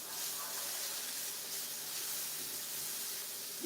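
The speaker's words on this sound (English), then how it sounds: "we'll just sear, just put it right there so it'll get nice and seared." Taco filling searing in a hot pan, a steady broadband sizzle and hiss that runs continuously and fairly loud throughout, close up with no talk.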